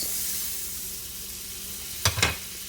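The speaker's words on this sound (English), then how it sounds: "I will put in the butter. Let it melt" Butter melts in a pan just emptied of oil, giving a soft, even sizzle for a few seconds before two short, sharper clatters near the end.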